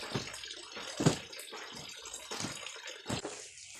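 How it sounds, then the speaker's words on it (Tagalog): Water trickles and splashes from freshly harvested azolla, with irregular drips and small gushes up close, some louder spatters standing out against a quieter wet background. "after na makatulo ang tubig mula sa azola"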